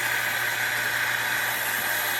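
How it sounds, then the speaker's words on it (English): Steady, even hiss from an aquarium air diffuser with an air silencer, running in a fish room from a central air system, close and constant without any break. "what I can hear is the air diffuser over here"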